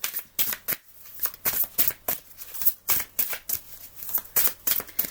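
Oracle cards riffled and shuffled by hand, a quick run of crisp papery flutters in a steady rhythm, close and alone in a quiet room.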